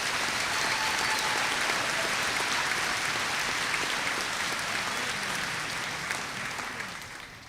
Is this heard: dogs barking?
no